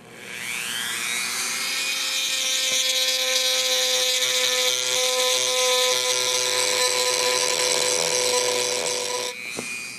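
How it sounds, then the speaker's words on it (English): A Dremel rotary tool sanding a foregrip spins up to a high, steady whine and runs continuously for several seconds before winding down. "we just finished with the Dremel sanding over and kind of smoothing out the first outside part"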